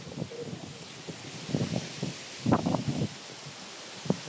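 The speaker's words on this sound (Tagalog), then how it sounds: "lakas ang hangin dito mga boss." Strong wind buffets a beach campsite, gusting in irregular rushes and flaps against the microphone, rising in bursts with quieter lulls between.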